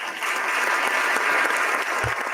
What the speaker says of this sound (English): Scraby, you should hit the clap button, and I'll tell everybody why